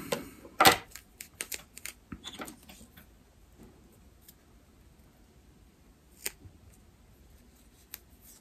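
Electrical tape is pulled and wrapped around a wire connection while wiring a kayak fish finder to its battery: a sharp close tearing burst early, then scattered light clicks and rustles fading to near quiet, with no talking.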